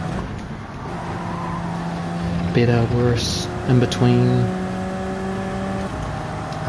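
Race car engine in Gran Turismo 7 drones steadily at moderate level throughout, under a voice speaking over it.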